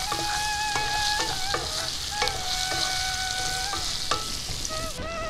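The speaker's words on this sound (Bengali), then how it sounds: "আলুটা হালকা করে আমি ভেজে নেব" Potato pieces frying in a pan with salt and turmeric, a steady close sizzle with stirring scrapes and clinks running throughout, no talking.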